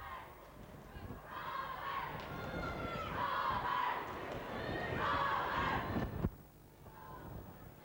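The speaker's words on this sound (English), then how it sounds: "The cheer for the Rovers" Spectators at a Clonmore county final hurling match cheering for the Rovers, a sustained rowdy roar of many voices lasting several seconds before cutting off sharply into quieter murmuring.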